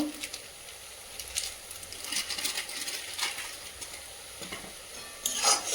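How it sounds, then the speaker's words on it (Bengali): Tomato frying in a pan with turmeric, Kashmiri chilli powder and salt, giving a steady close sizzle with scraping stir strokes throughout and a brighter burst of hiss near the end. "দিয়ে ভালো করে এটা ভেজে নেব"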